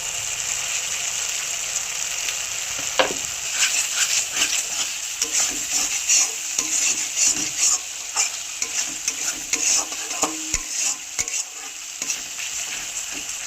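Spice masala cooking down with yogurt in oil, a soft constant sizzle broken by repeated scraping and stirring strokes against the pan, close and moderately loud.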